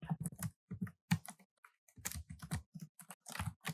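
Rapid typing of code on a computer keyboard, crisp close clicks in quick uneven bursts with short pauses between, heard alone in a quiet room.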